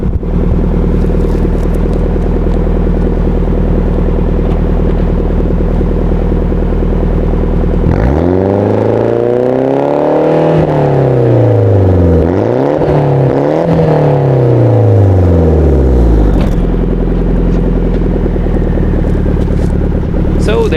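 A 1988 Nissan Silvia S13 with a swapped SR20DET engine idles steadily, then revs up and down several times with loud, close exhaust rumble before settling back to idle; water sits in the exhaust.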